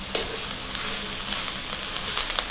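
Steady, close-up sizzling of mushrooms frying with onions in a pan, with a few light stirring clicks and scrapes throughout.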